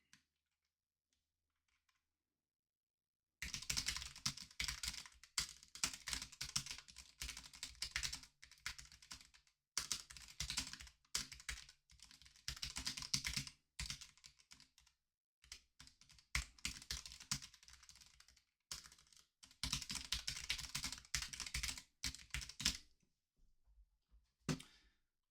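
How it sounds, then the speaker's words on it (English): Bursts of steady, fast keystrokes on a computer keyboard typing text, close and clear, in several runs separated by short pauses, with no speech. "I'm going to just type some text in here."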